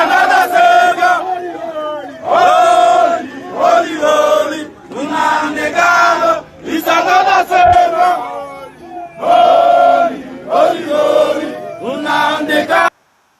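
A large crowd at a Biafran rally roars and chants in loud, sustained surges, with rhythmic shouted cries rising and falling in bursts before cutting off abruptly.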